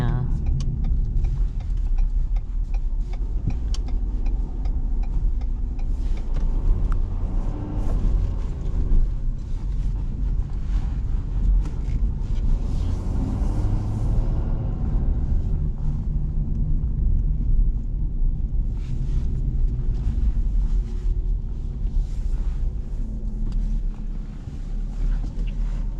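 A 2017 Ford F250 Power Stroke 6.7-litre turbo diesel pickup drives along with a steady low engine drone, road rumble and wind noise throughout, while someone talks over it.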